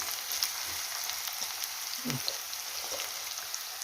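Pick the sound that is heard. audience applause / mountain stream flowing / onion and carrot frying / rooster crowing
onion and carrot frying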